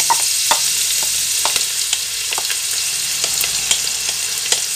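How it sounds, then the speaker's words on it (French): Chopped onion, spring onion and celery frying in hot oil, a dense steady sizzle close up with occasional light clicks of a utensil against the pan. "Dès que c'est chaud, on met notre mélange oignons, jeunes oignons, céleri."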